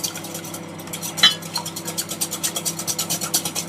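Eggs being beaten in a bowl for a cake batter, a rapid, regular clatter of a utensil against the bowl that starts with a sharp clink and settles into steady whisking strokes, close and alone.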